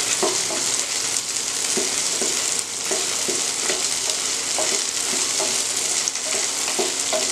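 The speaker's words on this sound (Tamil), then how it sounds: "மிளகாயை போட்டு நல்லா வணக்கிட்டு கருவேப்பிலையும் போட்டுக்கணும்" Chillies and curry leaves sauté in a pan, giving a bright, steady sizzle with a rhythmic scrape-and-clatter of continuous stirring, close and fairly loud, with no talking.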